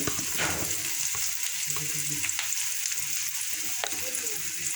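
Garlic and onion frying with turmeric powder in a pan, for masoor dal with egg, a constant loud sizzle with occasional stirring scrapes, close up and without talk.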